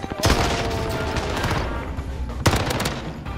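Bursts of rapid gunfire from a shooting video game crackle close and loud, with a sharp volley at the start and another near the end.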